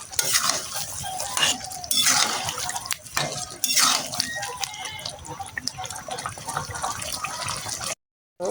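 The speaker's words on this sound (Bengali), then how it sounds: "গামলা দিয়ে 2 কাপ পানি দিয়ে দিলাম" Water pours and splashes into a pot of browned meat with onions, a steady close wet rush with scraping stirs and clinks of the pot, running throughout before a brief silence near the end.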